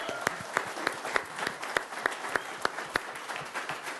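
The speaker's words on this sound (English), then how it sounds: "let's give him a round of applause" A live keynote audience claps, a fairly thin, faint round of applause with individual sharp claps standing out in a loose, steady rhythm.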